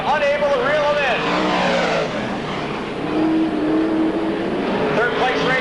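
Race cars including a Camaro roaring through turns 3 and 4 on a speedway, a loud continuous engine drone that rises and falls in pitch, with a commentator talking over the noise.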